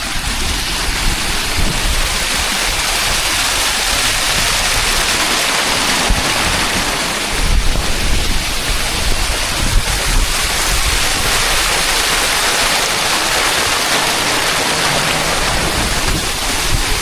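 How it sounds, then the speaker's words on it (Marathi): Monsoon rainwater rushes loudly and continuously down a trail near the steps of Tung fort, a thick, roaring wash with some wind buffeting the microphone and no talk. "बाहेरवरून पाणी किती वाहत आहे बघा."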